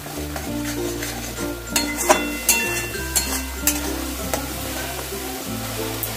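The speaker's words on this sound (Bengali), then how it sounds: "দিয়ে আমি ভালো করে কষিয়ে নেব" Cumin and Kashmiri chili powder sautéing in a pan for a fish kalia, a soft continuous sizzle broken by several sharp metal clinks and scrapes of a spatula stirring, with a low hum underneath and no talking.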